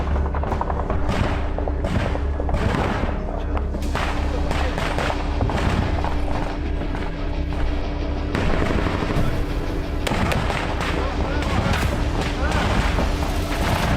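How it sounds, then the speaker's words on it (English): Intense artillery fire in combat near Bakhmut, dense continuous booms and blasts filling the scene, loud and close, with voices partly heard under the barrage. "The artillery began working intensively."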